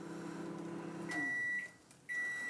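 A microwave oven heating a Cromer crab bake topped with parsley hums steadily up close, then gives a few sharp electronic beeps separated by a brief pause.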